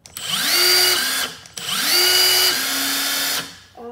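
A Milwaukee M18 FID2 impact driver whines up to speed in two close bursts, each rising in pitch, holding and then winding down, loud and close with no talk.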